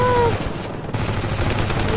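Rapid gunfire and battle noise in the combat game Ravenfield, a dense continuous clatter of shots at fairly close range with a brief tonal beep at the start and no clear talking.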